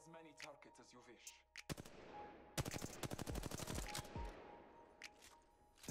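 Rapid automatic gunfire bursts from weapons in the first-person shooter Apex Legends, starting after a few seconds and rattling on loudly in quick repeated volleys, with some speech-like game sounds earlier.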